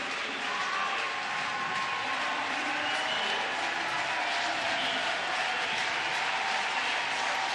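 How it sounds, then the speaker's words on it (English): Steady crowd roar fills a packed athletics stadium at the European Athletics Team Championships Super League in Bydgoszcz as the men's 800 m approaches: a dense, continuous wash of murmuring and scattered applause that holds even throughout. "if you're wondering why there's a bit of crowd noise, it's because the men's 800 are coming up shortly"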